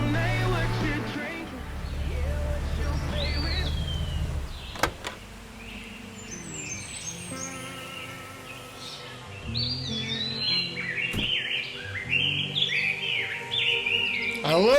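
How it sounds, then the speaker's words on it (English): Bird chirps and tweets mixed into a country song recording, short whistled calls rising over the music with keyboards in the background, fairly clear in the latter half. "I love the birds chirping."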